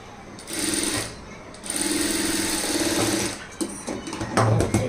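A sewing machine stitches lining cloth on a garment in two sustained runs of rapid, even needle chatter, close and fairly loud, separated by a short pause and followed by a few choppy bursts.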